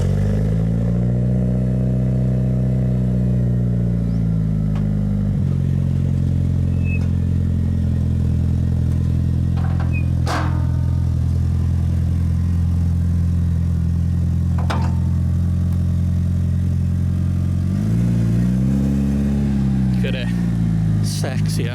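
A Mitsubishi Evo 6 engine rumbles steadily nearby, its pitch sweeping as it moves past, with a few sharp clatters and people talking over it.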